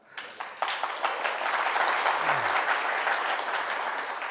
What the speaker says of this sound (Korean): 근데 박수는 좀 한 번씩 쳐주세요.